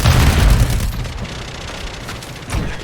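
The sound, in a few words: grenade explosion in video game Call of Duty MW3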